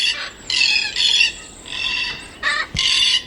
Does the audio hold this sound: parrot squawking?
yes